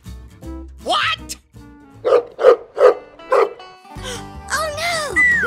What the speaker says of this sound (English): Looks like it's a wild dog.